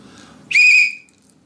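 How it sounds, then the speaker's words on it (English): A single loud, shrill blast from an emergency whistle, held steady for about half a second, then cut off, with quiet background before and after. "It's a whistle, an emergency whistle."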